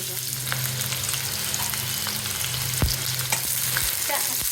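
Green chilies and onion sizzle with shrimp in a hot pan, a steady close frying hiss with occasional stirring scrapes and clicks.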